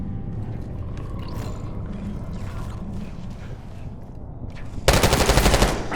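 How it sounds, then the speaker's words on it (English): In Call of Duty Black Ops, a sustained rumble of distant gunfire rolls on, then a sharp, loud burst of rapid automatic shots erupts near the end. "You hearing gunfire?"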